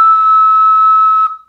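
Single sustained note from a plastic six-hole ocarina with a soft breathy start, a clear pure whistle-like tone held steadily for over a second before dropping away, loud and close, played alone.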